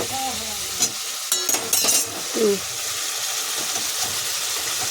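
Loud sizzling and frying in a pan as fried potatoes are stirred into spices, with scraping clatters and a few brief voices in the background.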